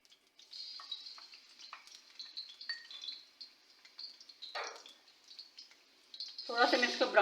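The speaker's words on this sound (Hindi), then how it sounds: "थोड़ा सा ऑयल गर्म हो जाए तो इसमें डालूंगी मैं अदरक लहसुन का पेस्ट।" Ginger garlic paste dropped into hot oil in a kadai crackles and sizzles softly, with scattered pops and a louder burst of frying near the end as the paste is stirred.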